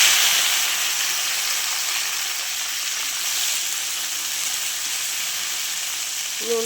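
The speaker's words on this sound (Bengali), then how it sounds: "ভেন্ডিটা ভেজে নিচ্ছি।" Okra (bhindi) frying in a pan in a home kitchen makes a loud, steady, hissing sizzle that continues unbroken throughout with no talk.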